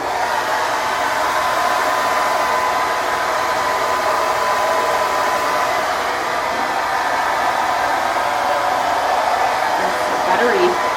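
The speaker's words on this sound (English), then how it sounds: "So now we're just gonna start the blow drying process." A cordless battery-powered hair dryer blows steadily on hair, a loud, even whoosh of air running unbroken throughout with no pauses.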